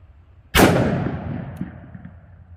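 A single close, very loud shot from a Smith & Wesson Model 69 2.75-inch .44 Magnum revolver firing Hornady XTP rounds into ballistics gel, cracking sharply and then rolling away in a long, fading echo.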